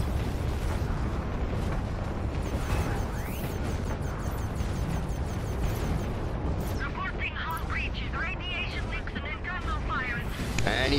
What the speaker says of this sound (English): I predict an explosion.